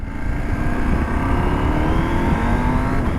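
A 2023 Husqvarna Norden 901 adventure motorcycle's engine pulls hard and loud at close range, its steady drone rising in pitch through the run with a shift-like step partway, no talk over it.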